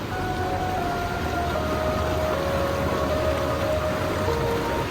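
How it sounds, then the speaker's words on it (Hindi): A jungle river flows with a continuous, broadband rushing wash, steady and moderately loud throughout with no voices. "आपको मैं रिवर की साउंड सुनाता हूँ, वो एंजॉय करो पहले।"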